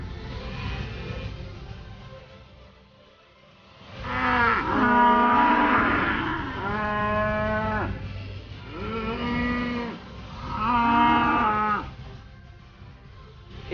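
A bull stands with his herd of cows, and the cattle give several loud, drawn-out moos in succession, close by, over a steady outdoor background.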